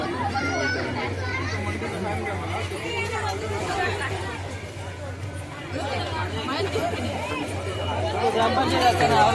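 Dense crowd chatter fills a busy hotel at a village temple fair, a steady babble of many voices with children's calls mixed in, moderately near and continuous.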